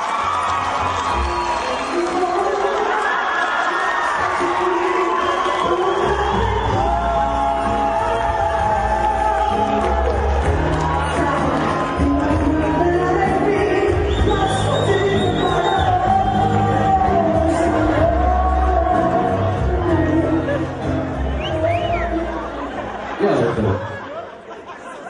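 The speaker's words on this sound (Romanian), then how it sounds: "Aplauze dumneavoastră!" A loud, dense crowd cheers and applauds throughout a student freshman ball parody show, with shouts and laughter rising over steady clapping and voices mixed in, easing slightly near the end.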